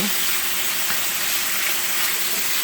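Steak sizzles steadily in a skillet while being flipped, a loud, dense frying hiss that runs without a break and with no voices.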